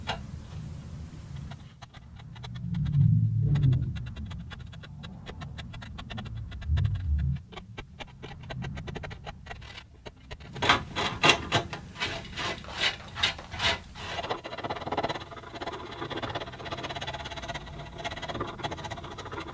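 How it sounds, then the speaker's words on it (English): A chisel chipping and paring wood to clear the end wedge recess of a handmade acoustic guitar: scraping, rasping strokes early on, then a run of quick, sharp ticking chips, close up with no talking. "Now using a chisel, I'll chip away those curved pieces, clearing out the space for the end wedge."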